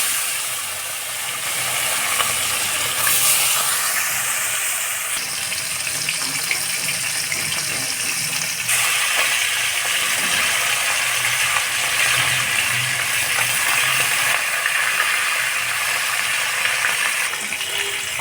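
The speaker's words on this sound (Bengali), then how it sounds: "এখন মাছগুলো ভেজে নিব।" Fish frying in hot mustard oil in a kadai over a low-to-medium flame, a loud, steady, close hiss and crackle of spattering oil that continues without pause for the whole stretch.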